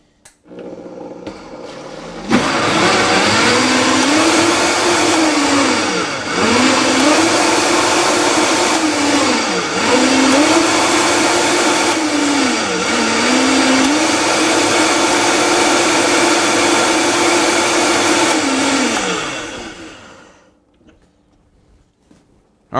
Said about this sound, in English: I'm going to blend it in the Vitamix over here.